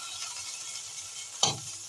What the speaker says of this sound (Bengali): রসুন লঙ্কা দিয়ে এটাকে ভাজছি